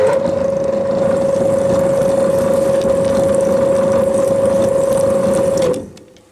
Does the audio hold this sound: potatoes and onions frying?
no